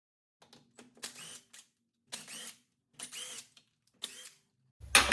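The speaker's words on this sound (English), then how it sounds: "Let's remove the lug nuts and pull the tire off." Lug nuts being loosened from the wheel of a 2018 Chrysler Pacifica minivan on a jack stand: four short, close mechanical whirring and ratcheting bursts separated by pauses, with a heavier clunk at the end.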